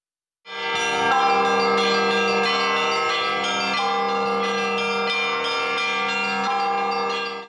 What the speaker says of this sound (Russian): Услышав этот торжественный и радостный звон колокола